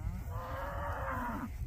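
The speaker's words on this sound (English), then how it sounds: "Come on, cows!" Cattle being herded on a regenerative farm let out a long, drawn-out moo at a moderate distance over low outdoor rumble, with no one talking.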